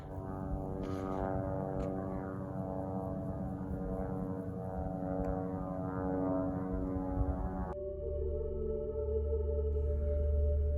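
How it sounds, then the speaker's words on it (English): A propeller airplane flies below a hiker on a peak of the Tongue Mountain Range above Lake George, giving a steady, distant engine drone for about eight seconds before the sound shifts to a different, closer hum. "So I don't know if you can see that airplane out there, but he's quite a bit lower than me."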